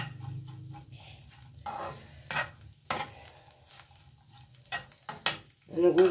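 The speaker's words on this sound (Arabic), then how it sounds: "هنحمص بس العيش كده كويس" Bread toasting in a home kitchen pan gives a steady low sizzle and frying crackle, with stirring scrapes and a few sharp clatters of utensils against the pan, fairly close.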